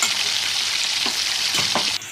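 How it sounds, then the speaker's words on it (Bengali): Eggplant fries in hot oil for a vegetarian eggplant and taro curry, giving a loud, steady broadband sizzle with a few soft stirring scrapes, cutting down sharply near the end. "বেগুনটা আমার খুব সুন্দর করে ভাজা হয়ে গেছে"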